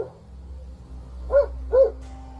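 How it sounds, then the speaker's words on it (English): Dogs barking in the dark: two short sharp barks in quick succession, fairly close, over a quiet low background hum. "Dogs, usually brave and protective, started barking a lot"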